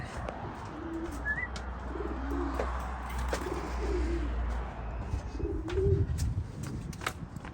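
Racing pigeons coo softly and repeatedly at an auction loft, with low, throaty calls spread through the clip over steady background noise and a faint chirp. No one speaks.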